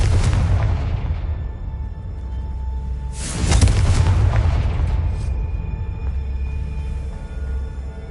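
A Confringo blast spell goes off in the video game Hogwarts Legacy, a loud booming burst with a crackling spray of sparks that rises suddenly midway, over a steady low background rumble before fading.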